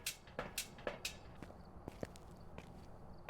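Player footsteps in the Phasmophobia video game tap in a quick, even walking rhythm, faint and close, with a few sharper clicks mixed in and no talking.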